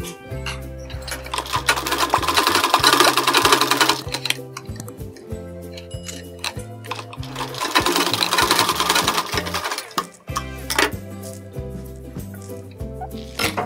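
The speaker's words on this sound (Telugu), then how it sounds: "ఇది సమానంగా ఫోల్డ్ చేసుకొని ఈ విధంగా స్టిచ్ చేసుకోవాలి." Sewing machine stitching a folded blouse edge in rapid bursts of mechanical ticking, with whirring runs separated by short pauses, close and fairly loud with no speech.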